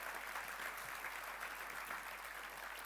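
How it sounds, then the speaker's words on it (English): An audience claps through a sustained round of applause at a demo day event, dense and steady throughout without a break. "A big round of applause for you and everyone that supported us this year."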